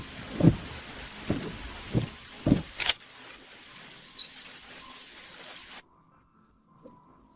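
Heavy rain pours down with several deep thudding rumbles early on, then a thinner steady downpour that suddenly drops away to near silence near the end.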